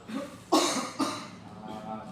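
A patient coughs twice in quick succession during a guided breathing exercise, with the coughs fairly close and clear over a soft room background.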